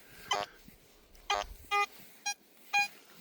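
Target tones from a GoldHunter Frogman B75 metal detector, a Fisher F75 copy, sounding ferrous and non-ferrous targets: five short electronic beeps at uneven intervals, clear and close against a quiet background.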